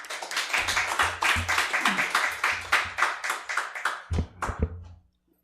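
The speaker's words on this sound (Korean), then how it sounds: "박수로 환영하겠습니다." A congregation at a Rwandan university prayer meeting claps to welcome a preacher, with close, rhythmic hand claps that thin into a few scattered final claps before stopping abruptly.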